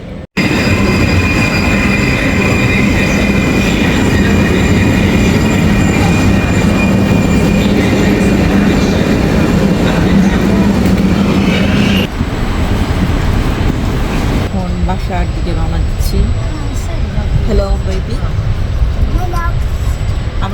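A train rumbles loudly alongside as it arrives at Venice Mestre station, Italy, wheels grinding and squealing as it slows, then the clatter eases into a quieter hum with faint voices around.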